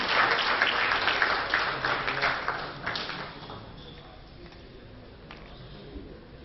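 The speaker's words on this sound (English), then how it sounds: "So can we have a huge round of applause for Union Steel Minister Shri Chaudhary Vire" An audience at an international industry conference gives a round of applause for a Union Steel Minister. Dense clapping is loud for the first few seconds, then thins and fades to a quiet room.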